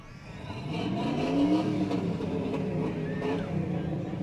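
Engines rev and rumble at a Christmas parade, a fairly close, rising and settling mechanical drone with fluctuating pitch that holds steady for several seconds without talk.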